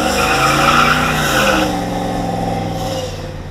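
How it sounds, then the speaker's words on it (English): Boosted 408 LS engine roaring through a burnout, rear tires squealing and skidding loudly and continuously close by, engine note shifting as the revs drop partway through. "we're gonna do a little burnout here"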